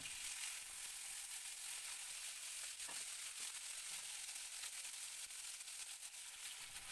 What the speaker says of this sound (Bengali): তেলটা আমার গরম হয়ে গেছে আমি এবার মাছগুলো এখানে দিয়ে দিচ্ছি